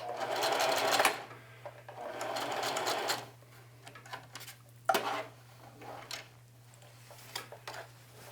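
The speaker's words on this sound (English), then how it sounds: "And there I can lock it up by back tacking." A sewing machine back tacks a seam on a jeans pocket, with two close bursts of rapid stitching followed by quieter clicks and handling sounds, with no talk.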